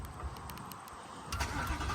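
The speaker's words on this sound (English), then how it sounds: "So I'll give you a warm start." A Ford Mustang S550 Mach 1 engine being warm started in track mode, a brief cranking whir followed by a rising throaty rumble as the engine catches, close and loud.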